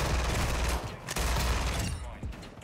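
FTAC Siege firing in the video game Modern Warfare 2, a fast, continuous stream of loud, close gunshots that keeps a high rate of fire before tapering toward the end.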